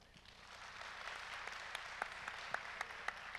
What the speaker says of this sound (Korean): 다시 한번 응원의 박수.